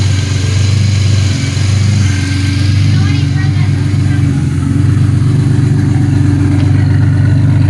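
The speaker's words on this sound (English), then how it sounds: "Turbo's spinning." A turbocharged Buick engine with an HX35 turbo runs steadily nearby, a loud low drone with a faint whine above it; a voice speaks briefly beneath it.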